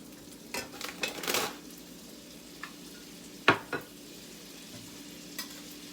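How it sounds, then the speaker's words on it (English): Three tablespoons of butter melting in a frying pan used for meatballs, giving a soft, steady sizzle with a few light clinks and scrapes of a utensil against the pan. "we're gonna put 3 tablespoons of butter into the same pan we used to make the meatballs"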